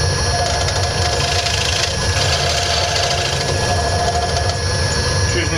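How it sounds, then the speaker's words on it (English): A wood lathe spins a square bowl blank as a flat-based skew chisel cuts across it, giving a steady close rasping, scraping hum with no voices over it. "Turn to my skew chisel now, which has got a flat base, just to get this"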